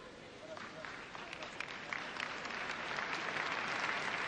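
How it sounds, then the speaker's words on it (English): Audience applause in a gymnastics arena at the 1989 World Championships after a beam routine, a fairly quiet, continuous wash of clapping that swells slightly, with a commentator talking over it. "Applause from the audience, appreciating just how difficult it is to pirouette on a beam."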